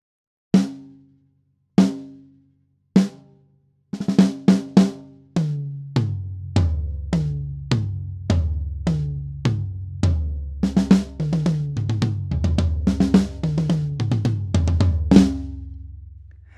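Unprocessed snare drum and toms miked with an Imperative Audio MAG7 ST4 dynamic mic: three spaced single hits, then a steady run of close, punchy strikes descending around the toms, ending in a louder final hit that rings out.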